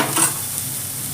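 Chopped tomatoes hitting hot oil with browned red onions in a pan for restaurant-style butter chicken fry, a brief loud sizzle burst that settles into steady frying hiss.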